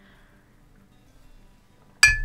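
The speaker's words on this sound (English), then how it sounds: "Banged my tea mug into my glass." A tea mug bangs into a glass once, a sudden, bright, ringing clink that follows near-silence and then fades slowly.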